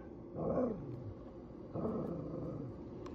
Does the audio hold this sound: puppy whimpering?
yes